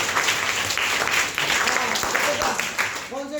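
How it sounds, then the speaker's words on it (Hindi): Schoolchildren in a classroom clap loudly together for a classmate's correct answer, a thick, slightly uneven patter with voices rising over it and speech starting as the clapping fades at the end. "जोरदार ताली बजाइए"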